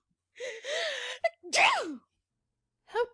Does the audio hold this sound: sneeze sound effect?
yes